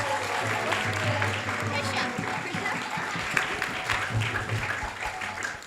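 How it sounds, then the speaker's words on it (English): A temple audience applauds a speaker at a Krishna Katha gathering, steady full-room clapping for several seconds with a low tonal hum running underneath. "please give a huge round of applause for our speaker."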